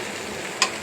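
Potatoes fry in white oil with ghee, bay leaf, cardamom, cinnamon and peppercorns, giving a soft continuous sizzle with one brief sharp clink from stirring.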